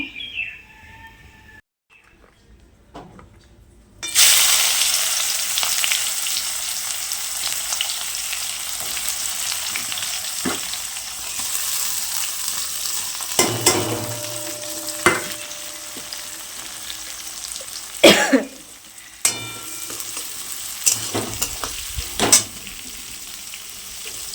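Hot oil sizzles and crackles as paneer fries in a kadai, with scraping stirs and clinks punctuating the frying; birds chirp faintly in the background.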